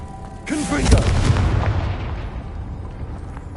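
Confringo fire blast spell cast in Hogwarts Legacy: a sudden booming burst with a crackling, fading tail lasting a couple of seconds, loud and close, with game voice audible near the start.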